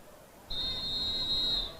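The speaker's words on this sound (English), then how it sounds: "but we hear the whistle, the final lap for these athletes" A referee's whistle marks the final lap of a 1500 m race at a youth athletics meet: one steady, shrill blast lasting about a second, loud over the crowd noise.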